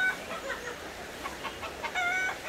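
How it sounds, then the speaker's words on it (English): Soft, sporadic clucking from a rooster at a distance over a quiet outdoor background hiss, in the mountains near a river. "And there's a rooster, of course. You hear the clucking?"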